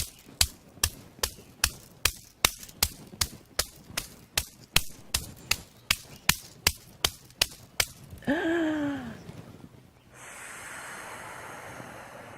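Rapid, even slapping taps repeat about twice per second for several seconds, followed by a long breathy exhale and soft hiss.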